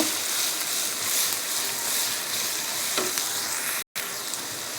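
Garlic and cumin paste fries in hot oil in a pan, a steady loud sizzle that carries almost unbroken with a brief dropout near the end and no talking.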